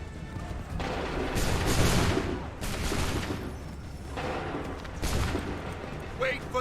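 A musket volley fired on command in an Assassin's Creed 3 battle: several loud crashing blasts in turn, each followed by a long rumbling tail, with faint voices in the background.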